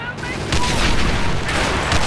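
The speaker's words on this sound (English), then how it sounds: "Those were some wonderful grenades." Grenades going off in Company of Heroes, a World War II strategy game: a dense run of bursts and rumbling booms fills the whole stretch, loud and continuous, with gunfire mixed into the battle noise.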